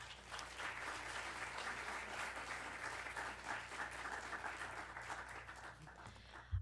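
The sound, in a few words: audience applause welcoming a speaker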